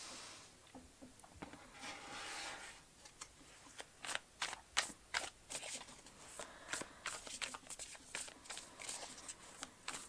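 Tarot cards are shuffled and handled close by in quiet bursts of crisp, rapid riffling taps, growing busier partway through.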